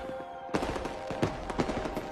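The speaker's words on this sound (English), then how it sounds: "fireworks" Fireworks in the VR rhythm game Beat Saber burst in a quick series of crackling pops and thumps after a brief quiet tone, heard with no voices over them.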